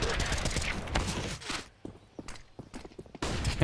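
Rapid gunfire bursts fill a Counter-Strike professional match, including AWP shots, with loud volleys at the start and end and scattered single shots and footsteps in between, under faint commentary.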